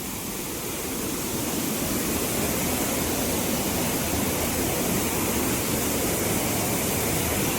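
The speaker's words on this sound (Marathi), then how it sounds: "हे बघा धबधबा त्यातला मस्त दिसतोय" The Devlya waterfall near Ratnagiri in the Konkan forest pours with a dense, constant hiss and rush, steady throughout at moderate distance, with no voices.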